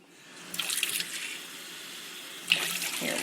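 A kitchen tap runs for a few seconds while pumpkin chocolate chip muffins are being made, water splashing steadily into a measuring cup or sink, close and fairly quiet.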